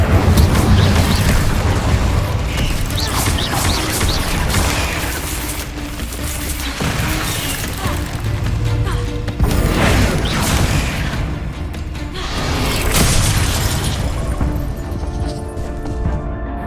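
Fiery spell blasts from the Incendio fire spell in the Hogwarts Legacy video game, a series of loud whooshing booms and crashes that swell and fade repeatedly over dense game combat noise.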